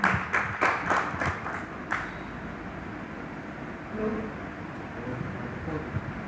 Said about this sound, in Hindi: एक बार जोरदार तालियां बजा करके